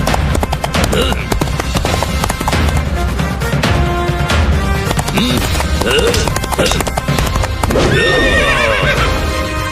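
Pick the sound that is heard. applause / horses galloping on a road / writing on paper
horses galloping on a road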